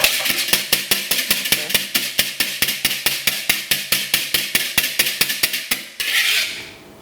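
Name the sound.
whisking egg whites by hand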